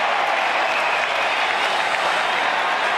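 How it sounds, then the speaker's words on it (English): An Australian football crowd at the Sydney Cricket Ground roars and applauds in a dense, continuous wash of cheering, loud and steady throughout with no clear individual voices. "the Swans crowd have found voice"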